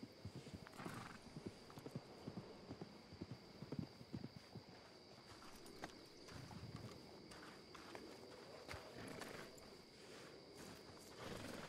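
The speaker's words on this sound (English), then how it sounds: "Oh, I hear horses." Horses' hooves clip-clopping in a Western frontier roleplay video game, a steady rhythm of many hoof strikes at a moderate distance, with an occasional whinny over a faint background hum.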